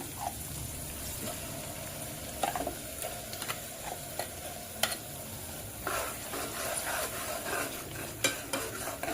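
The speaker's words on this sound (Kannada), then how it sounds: "ಮಸಾಲೆನ ಸ್ವಲ್ಪ ಫ್ರೈ ಮಾಡ್ಕೊಂಡ್ರೆ ಸಾಕು" Ground masala paste for tomato bath frying and being stirred in a pan, a steady close sizzle broken by repeated scraping clicks of the spoon.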